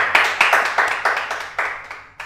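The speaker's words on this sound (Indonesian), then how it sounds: "Tepuk tangan dong, gokil." A few people in a small podcast studio clap in a slow, regular rhythm, about nine distinct sharp claps spaced roughly a quarter second apart, close and clear with a quick decay after each.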